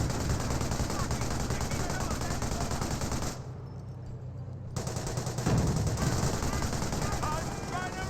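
Dense, continuous gunfire and mortar blasts from a Company of Heroes 1 match between Panzer Elite and British forces, loud and sustained, briefly dropping out mid-clip before the barrage resumes.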